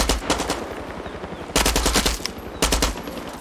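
Bursts of automatic AK rifle fire in Far Cry 6, three loud rapid strings of shots, the first longest, with brief pauses between and no talking.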